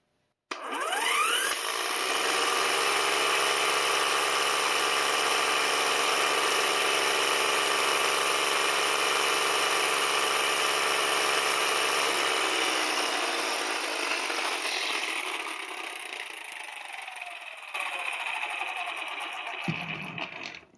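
An electric device runs from an EcoFlow River 2 entry-level 300-watt power station during a hydraulic jack test, producing a loud, steady mechanical whir and hum that goes on for many seconds, shifts pitch near the end and then cuts off abruptly.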